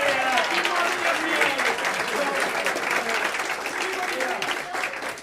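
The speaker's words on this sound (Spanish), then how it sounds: "Ya la aplaudimos antes, la volvemos a aplaudir." A crowd at an Erasmus+ reception gives sustained, dense applause that stays loud and even for the whole stretch, with faint crowd noise mixed in, before easing slightly at the end.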